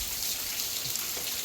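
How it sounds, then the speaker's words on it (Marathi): Heavy rain pours down steadily in a Konkan village, a dense, loud, even hiss of drops on surfaces throughout, with no voices. "तेवढ्यात हा जोरदार असा पाऊस आला."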